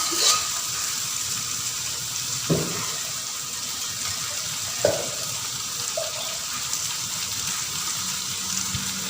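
Dry spices cook down gently in a pan of masala for mutton dalcha, a soft, steady low sizzle broken by a few sharp clinks and scrapes of a spoon.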